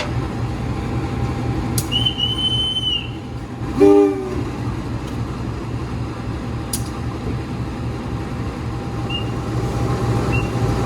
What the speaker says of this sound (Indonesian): Ini persiapan kereta api Matarmajanya bakal ditempel dengan lokomotif dinas ya.